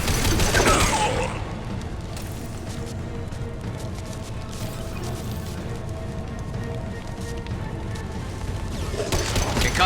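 Impact shot gunfire in a video game comes as a dense, continuous rattling barrage with loud bursts at the start and end and a steady crackling fusillade in between.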